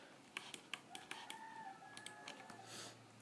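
Roosters, some with hoarse, strained voices, crow and cluck in short bursts amid faint scattered clicks, with one drawn-out crow ringing across the middle; quiet and somewhat distant, no talking.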